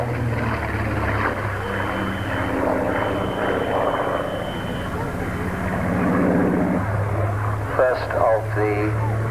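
A Fairey Firefly with its 2,000-horsepower-plus Rolls-Royce Griffon engine drones steadily at an air show, a continuous propeller-aircraft roar running throughout with a loud commentator talking over it.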